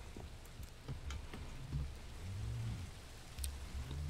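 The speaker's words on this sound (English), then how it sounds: "And it's raining." Rain falling at night in modded Minecraft, a soft steady patter with scattered faint drops and low rumbling undertones, quiet and continuous with no voices.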